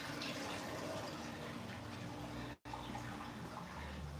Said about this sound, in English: I got to throw some water in the pool.